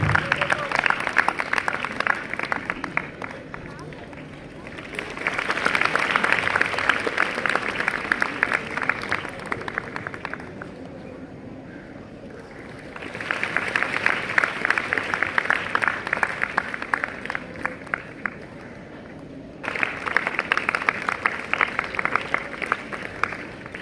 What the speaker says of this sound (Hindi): कृपया तालियों की करतल ध्वनि से हमारे विद्यालय में उपस्थित आदरणीय अतिथि महोदय का सम्मान करें।